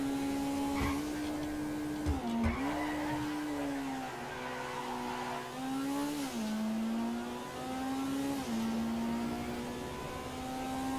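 In Grand Theft Auto, a Weaponized Ignus sports car's engine drones at high revs while accelerating, a steady whining tone rising and dipping with gear shifts, loud and continuous with no talking.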